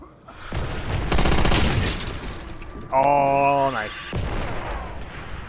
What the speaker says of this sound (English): I set the artillery over to a spot